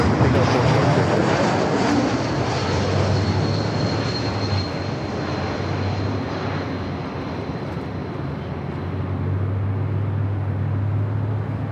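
A Delta Boeing 767 heavy jet rolls for takeoff on runway 24L at Los Angeles International Airport, its engines a loud, steady, broadband roar that holds for the whole stretch with slight swells.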